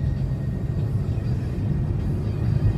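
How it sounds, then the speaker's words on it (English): A 2005 Pontiac Grand Am GT engine pulls under acceleration, a loud, steady low rumble heard from inside the car with a slight rise toward the end. "I'll give it some gas."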